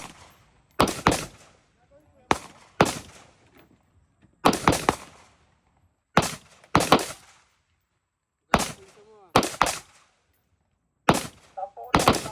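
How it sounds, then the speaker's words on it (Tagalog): Rifle fire during marksmanship training outdoors, loud sharp shots in irregular pairs and clusters with short gaps of near silence between bursts, each crack decaying quickly. "Release safety and commence firing."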